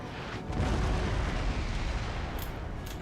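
Artillery fire booms across a battlefield in Napoleon: Total War (Darthmod), a heavy, rumbling, continuous barrage that swells and stays loud with distant bursts layered underneath.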